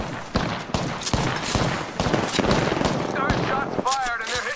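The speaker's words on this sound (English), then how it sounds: "Shots fired and they're hitting me." Rapid automatic gunfire from an Apex Legends firefight, with loud bursts of shots crackling through busy game sound effects, while a player talks over the action.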